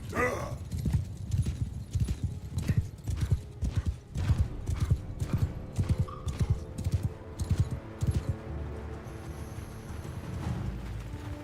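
Steady clip-clop of horse hooves trotting at an even rhythm in Mount and Blade II: Bannerlord, with a neigh near the end and a few clanking sounds.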